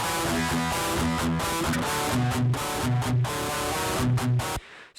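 Heavily distorted electric guitar playing a chugging riff with the cabinet emulation switched off, giving a harsh, fizzy, buzzy tone; steady palm-muted rhythm with sustained chords, loud and alone, cutting off abruptly near the end.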